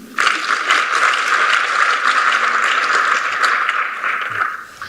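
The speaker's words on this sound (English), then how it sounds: "That clap is not enough" Audience at an education forum breaks into a full, steady round of applause, dense and close, lasting several seconds before tapering off at the end.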